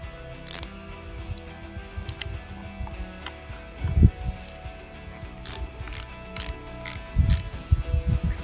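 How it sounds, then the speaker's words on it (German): A Torx T25 screw is loosened on Harley-Davidson Softail Street Bob handlebar controls with a ratcheting tool, giving close, quiet clicking and ticking in short bursts with a few light metallic knocks. "Dort haben wir zwei Schrauben, um hier die Armatur zu entfernen. Das ist ein 25er Torx."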